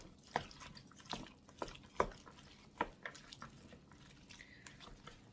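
Food is stirred in a pot, with soft wet clicks and scrapes of a spoon arriving in irregular taps, quiet and close with no talking.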